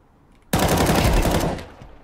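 Counter-Strike gunfire erupts as a sudden loud burst of rapid automatic shots lasting about a second, then cuts off and tails away, with no talking.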